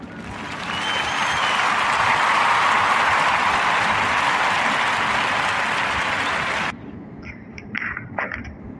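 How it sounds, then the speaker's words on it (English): A podcast audience breaks into sustained, dense applause that swells and holds steady for several seconds, then cuts off abruptly, leaving a few faint sounds behind. "So clap it up for Antonio and Andrea."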